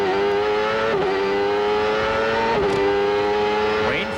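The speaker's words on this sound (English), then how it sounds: "this is how the start looked from Bobby Rahal's car" Onboard IndyCar engine at the start of the 1995 Portland race, a loud, steady high-pitched drone with a couple of brief gear-change dips and a rising rev near the end.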